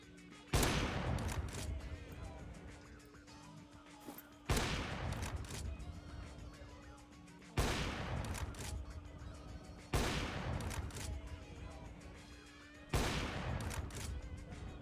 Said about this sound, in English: I hear explosions. And I hear gunfire.